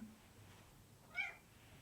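A single short cat meow, faint and close, over a quiet background.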